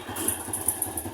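A motorcycle engine idling up close, a steady low putter with a faint rhythmic pulse and slight clatter, running alone without talk for about a second.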